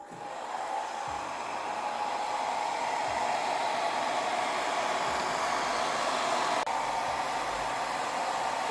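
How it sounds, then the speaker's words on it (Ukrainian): A hair dryer blows with a steady, breathy whoosh that holds constant throughout, close by and fairly loud. "Так, працюємо з феном, включаємо."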